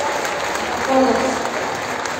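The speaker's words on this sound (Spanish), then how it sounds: "vamos a darnos un aplauso a todos los niñas y niños que hoy nos acompañan" A crowd of children and adults at a government event hands out a brief burst of applause, a steady clatter of clapping with a speaker's voice briefly audible over it.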